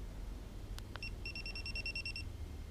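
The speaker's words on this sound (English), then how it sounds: "The second beep lets you know it's buffered and ready to go again." A GoPro Hero4 Session camera sounds a couple of clicks then a rapid run of about ten short, high electronic beeps as it fires a photo burst, close and clear over low background noise.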